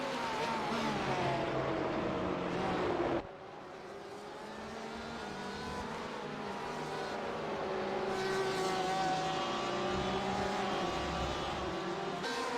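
GTLM-class race cars, including a Ferrari 488, racing at Sebring, engines roaring loudly and continuously with rising and falling revs as cars pass, an abrupt drop midway as the scene shifts, then another surge of engine noise.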